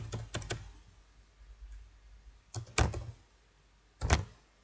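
Keys clack on a computer keyboard as a name is entered during a C++ programming lesson. A quick burst of several keystrokes comes at the start, then single louder clicks follow about 2.8 and 4.1 seconds in, close, with no talk.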